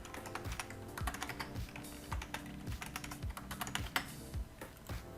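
A password typed on a computer keyboard: a steady run of close, crisp key clicks with irregular rhythm and occasional heavier thumps, nothing else in the room.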